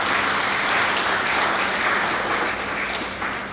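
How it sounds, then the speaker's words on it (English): An audience at a memorial lecture applauds, a dense, even wash of many hands clapping held steadily throughout before easing slightly at the end. "Please, can we clap for James?"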